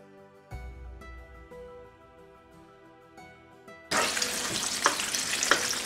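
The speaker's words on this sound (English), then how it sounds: "I want the oil to still bubble around the chicken" Quiet kitchen clatter gives way abruptly to loud, dense sizzling and crackling of chicken frying in hot oil.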